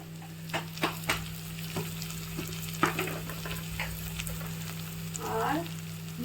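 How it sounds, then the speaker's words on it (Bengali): Ground spices with turmeric, Kashmiri chili powder and salt fry in oil for khichuri, a soft continuous sizzle broken by sharp stirring clicks and scrapes close by, with a faint steady hum underneath. "মশলাটা আমি এবার ভালো করে ভেজে নিচ্ছি"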